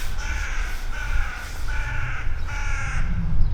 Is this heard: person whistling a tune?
no